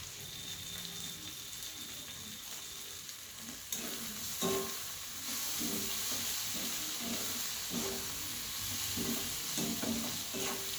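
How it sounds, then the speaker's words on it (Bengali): Potatoes, onion and tomato frying in a pan for dal fry, a steady close sizzle with repeated scraping stir strokes growing busier partway through, no talking. "দেখো আলুগুলো সঙ্গে পেঁয়াজ টমেটো সব কিছু খুব ভালো করে আমি ভেজে নিচ্ছি"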